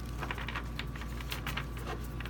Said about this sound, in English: Let's shuffle these cards a bit more.